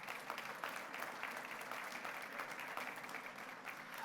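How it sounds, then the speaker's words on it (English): Applause from an audience at a school board meeting honoring a high school varsity boys soccer team, steady clapping at moderate distance for several seconds with no speech. "Please give a round of applause to the San Benito High School varsity soccer boys team."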